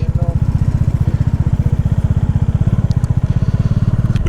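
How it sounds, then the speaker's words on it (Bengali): A motorcycle engine thrums steadily and loudly at close range on a Sikkim mountain road, a fast regular pulsing throb that never lets up. "আপনারা দেখছেন সিকিম বাইক রাইড"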